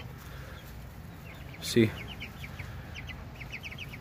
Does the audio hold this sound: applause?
no